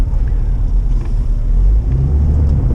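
A 2004 Jeep TJ on a test drive, heard as a steady, loud low rumble of engine and road noise from inside the vehicle, continuous throughout with no talking.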